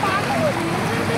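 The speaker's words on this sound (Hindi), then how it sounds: "बहुत स्पीड है, पानी बहुत स्पीड है" Fast Ganges floodwater rushes across a national highway toward fields and homes, a steady loud wash of flowing, splashing water close by, with people's voices talking over it.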